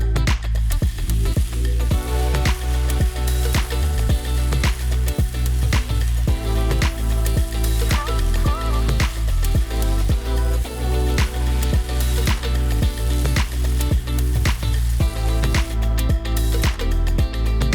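Steak sizzling on a portable iron grill: a loud, continuous frying hiss with steady crackle and pop throughout, close and alone.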